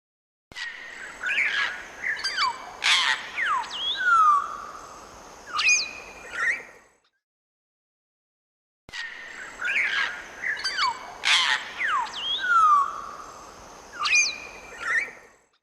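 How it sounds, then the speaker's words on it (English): An African grey parrot gives a sequence of sharp whistles, squawks and chirping calls, loud and close, in two near-identical bursts separated by a couple of seconds of silence. "African gray parrot"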